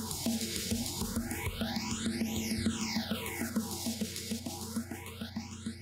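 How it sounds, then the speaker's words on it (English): A drum break runs through ping pong delay, phaser and compressor, its steady beat smeared under sweeping phaser swoops that rise and fall, dense and continuous throughout. "our delayed, phased, and compressed version of the signal"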